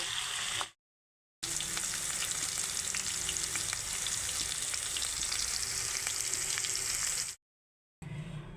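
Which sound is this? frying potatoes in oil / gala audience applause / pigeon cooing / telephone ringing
frying potatoes in oil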